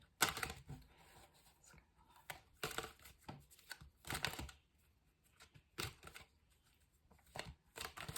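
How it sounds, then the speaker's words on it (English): Large tarot cards being shuffled by hand, giving bursts of crisp riffling and slapping that come in uneven clusters with quiet gaps between them, close up and fairly soft, with no talking. "These bigger cards are really hard to shuffle."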